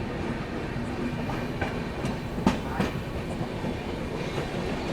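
Express train departing Duvvada on the main line and accelerating, rolling along rails with steady rumble and occasional clicks and clacks of wheels over joints, heard from inside a carriage.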